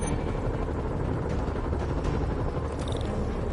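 Helicopter in a PS4 video game, a steady low rotor drone with rumbling texture that stays loud and constant throughout, with a faint high chirp near the end.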